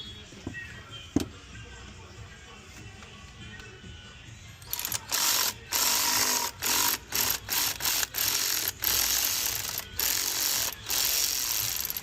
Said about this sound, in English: I use a 8mm socket to remove the ground strap above the thermostat